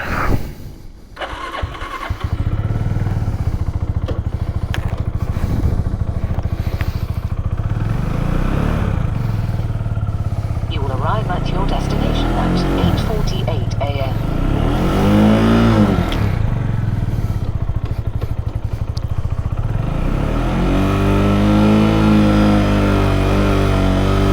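A motorbike's cold engine cranks and stutters for several seconds, then catches and runs, with repeated rising revs that swell and fall in a steady pulse, recorded close and loud with no talking.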